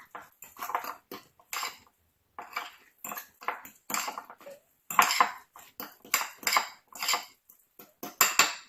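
A spoon clatters and scrapes against a bowl while guacamole with onions and cilantro is stirred, a close series of irregular clinks and knocks with short pauses between strokes.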